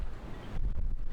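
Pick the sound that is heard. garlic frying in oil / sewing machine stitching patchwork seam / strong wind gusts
strong wind gusts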